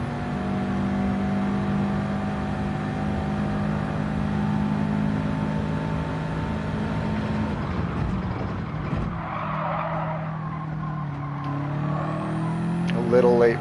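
A race car in Gran Turismo 7 at Sardegna, its engine droning steadily at high revs, then tires squealing and the revs dropping before the engine climbs again, with someone talking over it.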